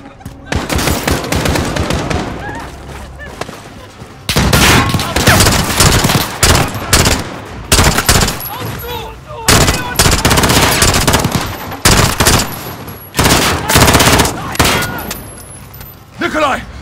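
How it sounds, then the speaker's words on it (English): Sustained bursts of automatic machine gun fire in the video game Call of Duty: Modern Warfare (2019), loud and close, in repeated volleys separated by short gaps, with other battle noise and occasional voices mixed in. "The gunshots, of course."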